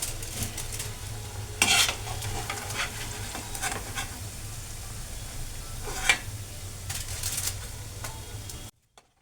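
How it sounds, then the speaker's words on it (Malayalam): Onion vadas being lifted out of hot frying oil with a ladle, a steady sizzle under occasional metallic scrapes and clinks of the ladle against the pan and bowl. "അപ്പം നമ്മുടെ ഉള്ളിവട എല്ലാം കൂടെ നമുക്ക് ഈ ഒരു പാത്രത്തിനകത്തോട്ട് കോരിയെടുക്കും"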